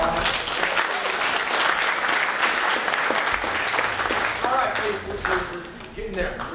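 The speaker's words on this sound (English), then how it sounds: "Give a little round of applause." An audience at a school activities meeting applauds, a sustained patter of clapping from a moderate-sized crowd with some talking mixed in.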